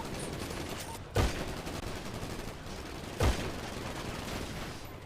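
Gunfire in the video game GTA V sounds over a steady dense background, with two sharp loud shots about two seconds apart.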